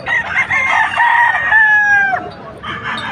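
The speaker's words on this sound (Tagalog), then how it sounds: "Sir Jojo, ayun po mga manok niya." Roosters crow close by, a long rising-then-falling call with overlapping crows from several birds kept at a poultry sale in Bocaue, ending with a short clucking tail.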